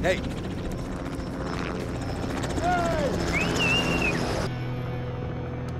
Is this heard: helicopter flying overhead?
yes